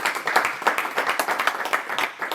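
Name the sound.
audience applause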